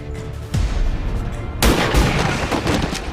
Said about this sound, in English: And fire the sniper rifle at it.